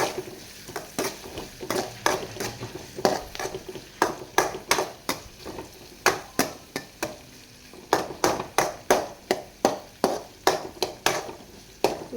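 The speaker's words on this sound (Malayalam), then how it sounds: "ഇഞ്ചി പച്ചമുളക് വെളുത്തുള്ളി കറിവേപ്പില എല്ലാം കൂടി ചേർത്ത് കുറച്ച് നന്നായി വഴക്കും" Ginger, green chili, garlic and curry leaves being sautéed in a pan, with a steady run of brisk, rhythmic stirring scrapes over a soft frying hiss, close and with no talking.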